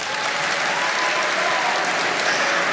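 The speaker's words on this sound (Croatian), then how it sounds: "Najtužniji aplauz ikada." A comedy-club audience at a stand-up special applauds, a dense, steady burst of clapping for a few seconds, close and fairly loud, with no speech over it.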